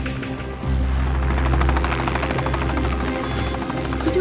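Air ambulance helicopter carrying an injured child in to a hospital helipad, its deep rotor thump and engine drone rising sharply after a quiet half second and then holding loud and steady with no talk.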